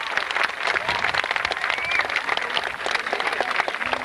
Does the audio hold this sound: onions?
no